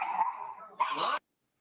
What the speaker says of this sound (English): Watch this based dog lose it when Biden appears on TV